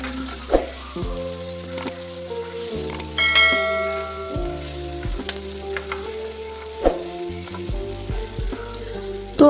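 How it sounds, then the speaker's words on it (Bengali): Cumin and garam masala paste frying in hot oil in a pan for a beef-fat lentil dal, a steady sizzle broken by metal clangs and scraping of a spoon stirring against the pan; no one talks. "এখন দিয়ে দিচ্ছি জিরা গরম মশলা বাটা। দিয়ে মশলাটাকে ভালোভাবে কষিয়ে নেব।"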